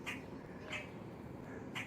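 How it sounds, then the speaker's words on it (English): A bird calls outdoors, three short, faint squawking chirps spaced about evenly apart over a soft background hiss. "Oh, here comes another bird."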